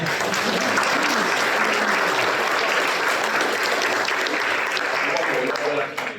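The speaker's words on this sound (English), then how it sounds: "give them a round of applause." A panel and Q&A audience claps for the panelists in a loud, dense, steady round of applause that holds for several seconds before easing off at the very end.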